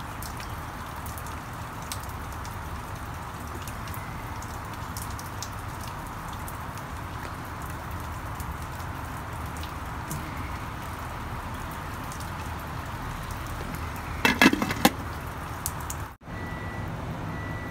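Steady rain falls outdoors near a grill, a constant even hiss of drops on surfaces throughout, with a few louder clatters near the end and no talk.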